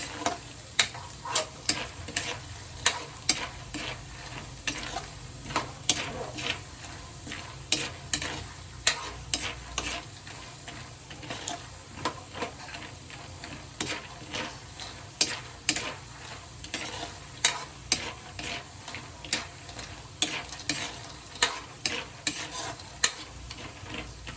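Thinly sliced garlic frying until golden brown in a pan, a steady sizzle punctuated by regular sharp clicks of a utensil stirring and tapping, continuing throughout.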